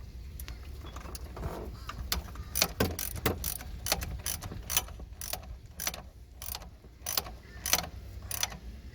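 A ratchet clicks steadily as a hose clamp is run down snug on a cold air intake for a 2015 Camaro SS, a close series of crisp, evenly spaced ticks in a quiet space.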